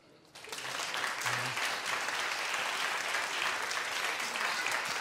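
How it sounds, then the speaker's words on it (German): An audience claps steadily at a WDR radio choir children's music event, the applause rising quickly after a brief quiet start and holding at a dense, even level. "Holt doch wenigstens euren Applaus ab."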